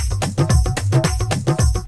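Dholak rhythm loop layered over a drum machine beat in a Bollywood-style groove, dense driving hand-drum strokes and punchy kicks in a steady fast pattern, loud and upfront.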